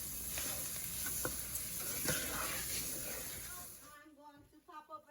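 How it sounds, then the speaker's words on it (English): Steady sizzling of brown sugar caramelizing with onions and bacon in a pan, close and fairly quiet, with occasional stirring scrapes before the frying fades and a voice begins speaking. "I'll let the sugar go ahead and caramelize into these onions and bacon"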